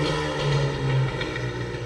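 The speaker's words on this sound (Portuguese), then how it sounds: "As motos são barulhentas." A noisy motorcycle with a dry clutch, a steady, rough engine drone with a low throbbing hum, loud and close throughout the short stretch.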